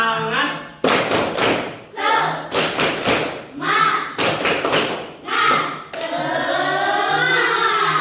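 A school class performs a rhythmic spirit clap chant, loud synchronized bursts of clapping in patterned groups with children chanting along, ending in sustained group voices.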